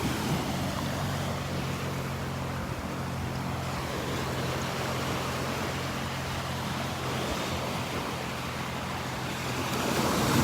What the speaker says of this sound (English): if you can hear his four-wheeler doing his check of the beach, his morning check run.